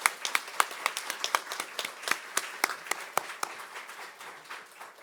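A church congregation claps in thanks to a guest speaker at a Korean Wednesday evening service, with a scattered, uneven burst of hand claps that starts strong and slowly thins out, no talking over it.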